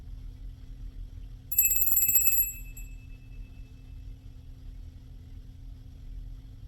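A single bell is struck once to clear the energy, its bright high ring sounding clearly and lingering briefly before fading, over a low steady hum in an otherwise quiet room.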